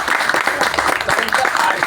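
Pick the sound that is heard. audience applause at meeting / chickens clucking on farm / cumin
audience applause at meeting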